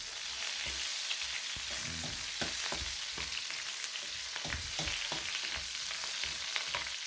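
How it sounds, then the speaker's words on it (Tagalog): Onions and garlic fry in a pan, already golden brown, with a steady loud sizzle and repeated scraping stirs throughout; no one speaks. "So mix natin yung sibuyas."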